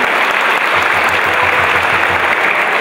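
Dense audience applause fills a speedway team presentation for KS ROW Rybnik riders, a steady loud wash of clapping with a faint low rumble underneath, no voices on top.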